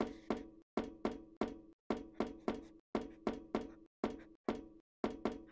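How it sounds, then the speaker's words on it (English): Hollow wooden bonks from a stick striking a character in a video game, about a dozen sharp hits in quick uneven bursts, loud and close with short gaps of silence between groups. "It makes a bonking sound when you hit someone."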